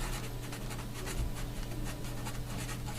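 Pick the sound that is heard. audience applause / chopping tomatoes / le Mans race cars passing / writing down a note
writing down a note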